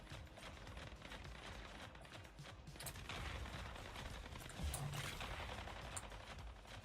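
Autocannon fire in a video game, a quiet, steady stream of rapid mechanical shots running continuously with slight swells in loudness.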